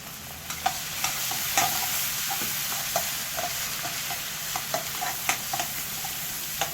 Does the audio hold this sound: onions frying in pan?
yes